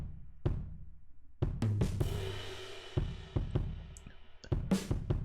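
Logic's built-in drum kit run through a heavily compressed, distorted bus, giving gritty, pumping kick and snare hits in a steady groove, loud and alone with no voices.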